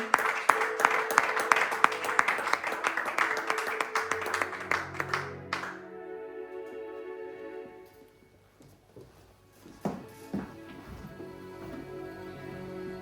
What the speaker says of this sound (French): Par vos acclamations